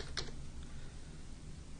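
Faint keystrokes on a computer keyboard while text is entered into a Windows Run box. Only a couple of quiet clicks rise above soft room noise.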